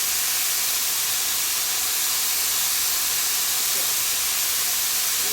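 Chard leaves stir-frying in a pan with a little sauce, giving a steady broadband sizzle and hiss that stays loud and unbroken throughout, close up with no voices.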